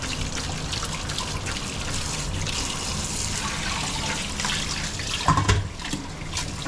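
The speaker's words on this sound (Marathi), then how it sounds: "लगेच थंड पाणी टाकून घ्यायचं, म्हणजे जास्त ते ना शिजत नाही" Cold water poured over cooked clams in a kitchen, a steady close splashing trickle throughout with a brief louder splash near the end; no voices.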